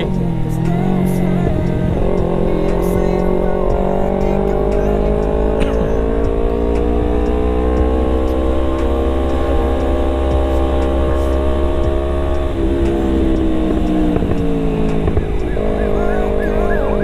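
A Honda Scoopy scooter accelerating along an empty village road, its engine note rising and holding loud and close for a long stretch, dipping briefly before climbing again.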